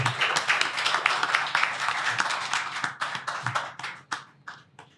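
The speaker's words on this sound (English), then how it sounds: "So please, a round of applause and welcome to Drinks and Mike's set, Mr. Mayokun Ajibade." Audience applause welcoming a speaker at a talk, a burst of clapping from a modest crowd that thins out into a few scattered individual claps by the end.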